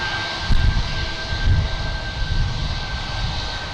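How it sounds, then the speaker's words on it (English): Loud Alaska Airlines jet taxiing in to park at Boston Logan, a close, steady engine roar with a fixed high whine tone and pulsing low rumble, no voices. "We also have a very loud Alaskan Airlines parking right in front of us"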